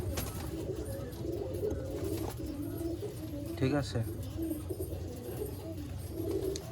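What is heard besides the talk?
restless pigeons cooing and fluttering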